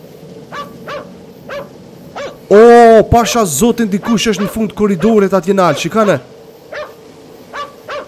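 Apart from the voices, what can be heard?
dog barking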